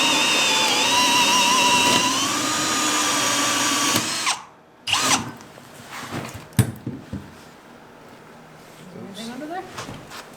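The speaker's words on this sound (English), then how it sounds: "This is the biggest hole saw that I have." A loud power drill driving the largest hole saw through wood grinds steadily for about four seconds, then stops abruptly, followed by short clunks, scrapes and faint handling noises.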